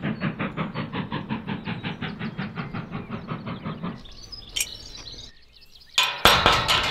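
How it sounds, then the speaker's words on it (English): A steam train chugs through a countryside valley near Grosmont and Goathland, its rhythmic exhaust beats steady and fairly close for several seconds, then fading into clinks and rattles of passing carriages. "you get the steam train coming through it"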